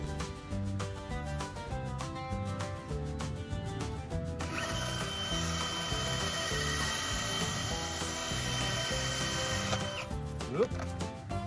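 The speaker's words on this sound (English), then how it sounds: "we're going to drill straight through this post to the other side and halfway through that post" Power drill boring through a wooden fence post on a ranch: a steady whining motor drone under ongoing background noise, with the tone holding for several seconds before cutting off.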